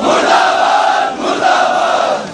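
A large rally crowd chants a slogan in unison, two loud sustained surges of massed voices with a brief dip between them, filling the whole stretch without a lone voice standing out.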